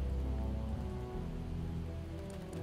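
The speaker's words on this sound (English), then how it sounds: "It is starting to rain." Rain begins falling in the zombie survival game Project Zomboid, a soft steady patter over a low droning ambient hum, with no voices.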